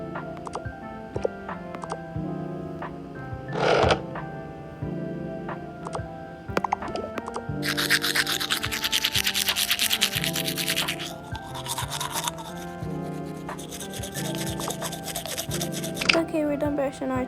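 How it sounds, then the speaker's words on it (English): Teeth are brushed with a toothbrush in a morning routine, quick scrubbing strokes that come in bursts, loudest in the middle stretch, close to the mic with other small household sounds around. "Now let's just brush our teeth."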